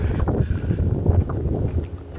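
Steady wind buffeting the microphone outdoors, a continuous low rumble with gusty swells and no voices.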